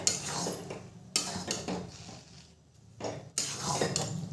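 A spoon stirs sweet, sour and spicy jujube pickle in a pan over a low flame, with quiet scraping and clinks against the metal that come in a few short bursts.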